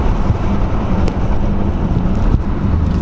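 Road rumble and wind noise fill a car's interior while driving in a supercar convoy, a low continuous roar with a couple of faint knocks and no speech.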